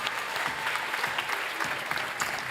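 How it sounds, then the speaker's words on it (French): A studio audience at a French midday TV game show applauds, a dense, steady wash of clapping sustained at even loudness for the whole stretch with no voices over it. "Soit qu'on applaudisse ces gens extraordinaires."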